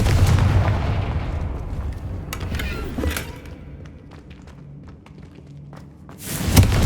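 A Confringo blasting spell cast in the Hogwarts Legacy video game, heard as a loud explosive burst with a heavy low thump that fades into a quieter rumble, then a second sharp blast right at the end.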